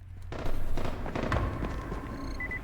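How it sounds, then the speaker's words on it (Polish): Several sharp gunshots in the video game Dying Light crack out over a rumbling, noisy background, irregular and fairly loud, with distant pops trailing off. "Co to za strzały tam są?"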